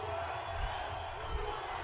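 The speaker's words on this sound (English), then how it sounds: "The crowd is chanting USA." A large crowd chanting "USA" at a rally with flags, near a speaker behind bulletproof glass, heard as a steady, somewhat distant roar with faint rhythmic low surges.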